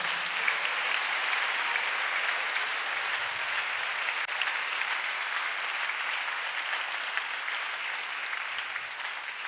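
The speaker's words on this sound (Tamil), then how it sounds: "அவர்கள் அனைவருக்கும் ஹாப்பி ஃபீஸ்ட் சொல்லி கைத்தட்டுவோம்" A congregation at the Carmel Ashram feast mass for Our Lady of Carmel claps steadily, an even, sustained wash of hand clapping from many people in a large room, with no talk over it.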